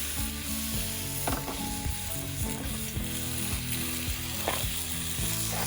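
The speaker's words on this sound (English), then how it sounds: "Oh, don't you just love the sound of bacon? We're going to get that started frying." Bacon sizzles and crackles steadily in a hot cast iron skillet, with occasional clinks and scrapes of a utensil against the metal.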